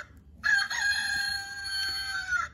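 A toy chicken plays a recorded rooster crow: one sustained, bright cock-a-doodle-doo call lasting about two seconds, loud and close, with no talking over it.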